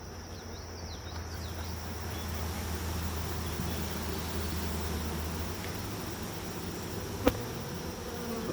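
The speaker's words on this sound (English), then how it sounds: "Now you see I got a ton of bees here." Steady, dense buzzing of many bees from a Saskatraz hive, continuous and close, with a faint high whine and a brief click near the end.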